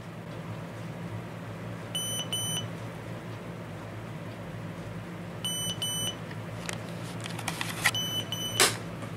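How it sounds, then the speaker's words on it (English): A Sony Dream Machine ICF-C305 clock radio alarm sounds in a dark room, sharp electronic beeps arriving in short repeated bursts, a few seconds apart, over a quiet background, then clattering handling noises as it is silenced. "Let's simulate an alarm in darkness."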